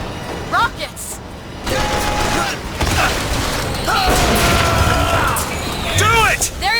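BioShock Infinite combat: rockets burst in heavy booms and rumbling blasts across the middle stretch, mixed with gunfire and mechanical clatter, while a voice shouts over the chaos.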